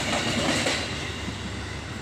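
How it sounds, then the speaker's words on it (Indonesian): A real train rolls past on the railway, a loud, close, continuous rumble of railcars with rattling wheel noise and faint clatter over the tracks. "Langsung disambut sama kereta api yang asli."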